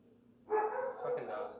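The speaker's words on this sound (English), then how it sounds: "Fucking dogs" Dogs bark in a loud burst of overlapping barks and yips nearby, following a short quiet lull.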